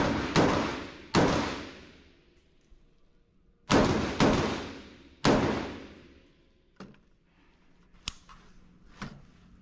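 Pistol fire on an outdoor U.S. Air Force tactical shooting drill, shooting from a kneeling position: five loud, sharp reports with ringing decay, then three fainter, shorter cracks spaced a second or so apart.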